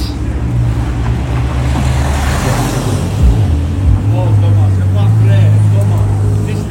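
Ferrari 812 GTS in matte red passing in a city street, its engine a steady, loud low drone with a rising and falling pitch under constant background noise, near and sustained throughout.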